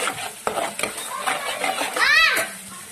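Ginger and garlic being stirred into hot oil in a frying pan while making restaurant-style matar paneer, with a spoon scraping and clattering over a sizzle, as a voice talks over it.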